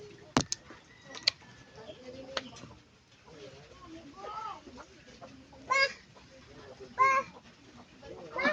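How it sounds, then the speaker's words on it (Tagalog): Chickens cluck in short bursts, with a few sharp knocks early on and quieter background sounds between calls. "Ayan, ang mga manok oh."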